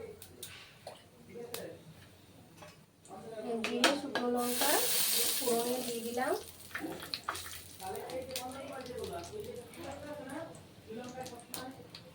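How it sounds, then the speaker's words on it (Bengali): Dried red chillies and cumin sizzle in hot oil for a tempering, a soft, steady hiss that swells briefly in the middle, heard beneath someone talking close by almost throughout. "শুকনো লঙ্কা জিরে আর শুকনো লঙ্কা আমি ফোড়নে দিয়ে দিচ্ছি"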